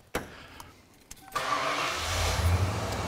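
A 37-year-old Ford Bronco with a TFI-IV ignition module starting up: a few quiet clicks and a brief crank, then the engine catches and settles into a steady rumbling idle.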